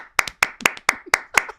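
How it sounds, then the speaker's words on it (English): Clapping in a studio, about seven sharp close claps in a steady rhythm, like one or two people applauding rather than a crowd. "a round of applause for this man on my left for stepping in whilst I've been away"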